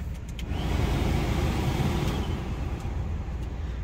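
A 1998 Ford F-150 with a 5.4 liter V8 and 81,000 original miles idles close by, a loud, steady low rumble with no pauses.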